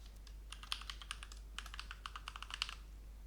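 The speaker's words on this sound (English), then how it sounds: "So let me type my password here." Rapid, close key clicks from a computer keyboard as a password is typed, in two short bursts with a brief pause between, over a faint low hum.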